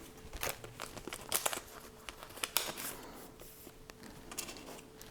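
Adhesive tape being handled during a custom water-cooled computer build, with close crinkling, peeling and rustling bursts at an uneven pace, fairly quiet and with no talk.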